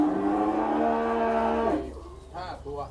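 Cattle low at a livestock market in Wang Prachop, Tak, Thailand, with one long, loud moo followed by shorter bellows in a noisy crowd.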